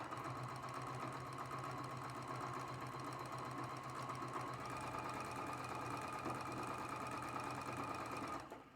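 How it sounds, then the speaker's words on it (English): A sewing machine stitching quilt block seams, running at a steady fast hum with a close mechanical chatter for most of the clip before slowing and stopping near the end, no talking. "we're just sewing both seams right on the line"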